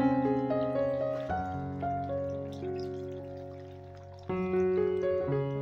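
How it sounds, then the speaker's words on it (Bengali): Water poured into a pan of chicken curry, a steady near pour with a brief shift partway and a louder surge near the end, no talking. "এবারে আমি জল দিয়ে দেব।"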